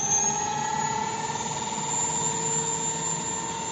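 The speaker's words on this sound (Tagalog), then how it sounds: "So i-throttle naman natin siya." An electric vehicle's motor is throttled with a steady high electric whine holding several tonal lines, close and constant, with no talking.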